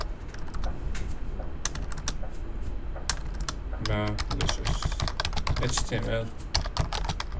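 Computer keyboard typing while a rule for detecting a malicious HTML application is written, with rapid irregular clicks running steadily through the clip beneath a man's ongoing speech.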